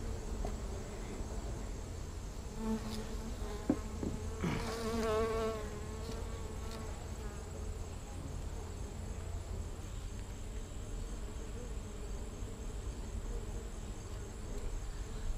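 Honey bees buzz steadily as they build fresh comb on a new hive frame, a dense, continuous insect drone close by with a brief louder swell of wingbeats partway through.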